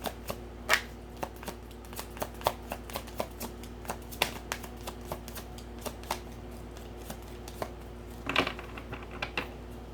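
Tarot cards are shuffled in a series of quick, irregular riffles and taps at close range, fairly quiet, with a denser flurry of card sounds near the end.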